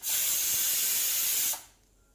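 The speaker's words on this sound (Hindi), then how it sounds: "इसमें कुकर में सीटी लग रही है तो इसमें जो है ना दाल उबल रही है" A pressure cooker boiling dal lets out a loud steady steam whistle for about a second and a half, then cuts off abruptly to a faint background hiss; no voices are heard.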